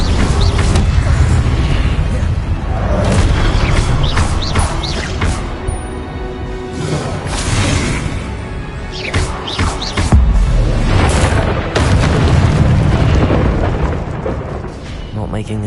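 Blasting-spell explosions and crashes from the Hogwarts Legacy video game, loud and dense, with repeated bursts layered over a busy, continuous combat roar for the whole stretch.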